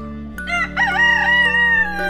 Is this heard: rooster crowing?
yes